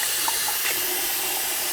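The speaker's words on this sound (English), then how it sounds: "Jason, turn off the water first." Tap water runs steadily into a sink while hands are being washed, giving a continuous close hiss and splash with no speech over it.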